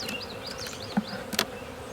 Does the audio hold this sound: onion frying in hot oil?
no